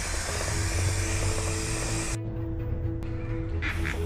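Oxford Mint dry lube sprayed from an aerosol can onto a bike chain, a steady close hiss for about two seconds that then cuts off abruptly.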